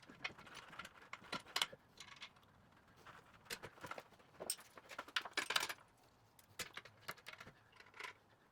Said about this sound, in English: Now I'm just gonna secure with the bolts